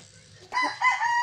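A gamefowl rooster crows once up close, a short loud call after a quiet, faintly noisy lead-in, with no talking over it.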